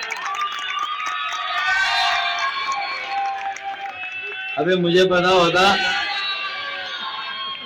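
A youth crowd at a political gathering in Karachi cheering and chanting slogans, a loud surge of many voices that swells midway, mixed with a speaker's amplified voice.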